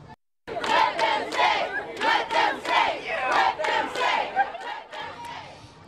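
Loud crowd of students protesting staffing changes at their school, shouting and chanting together in repeated surging bursts, close and continuous.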